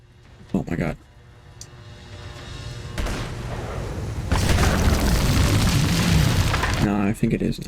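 Grenade explosions in the video game Uncharted 2, deep booming blasts that swell into a long roaring rumble, loud and close, with voices nearby.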